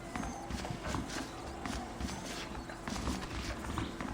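Saddled horses walking in the video game Red Dead Redemption, a steady rhythmic clip-clop of hooves at moderate distance over a low ambient bed, with no talking.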